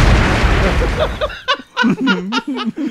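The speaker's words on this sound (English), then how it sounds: "I love how big that explosion was." An explosion sound effect opens with a loud, roaring burst that fades over about a second, then gives way to laughter and talking.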